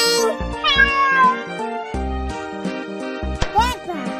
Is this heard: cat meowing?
yes